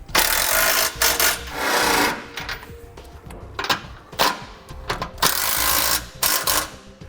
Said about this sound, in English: And then we'll tighten up our side bolts.